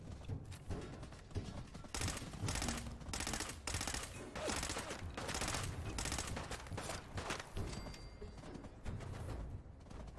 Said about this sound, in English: Oh, somebody else is shooting at me now.